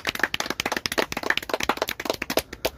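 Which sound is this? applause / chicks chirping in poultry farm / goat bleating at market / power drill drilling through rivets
applause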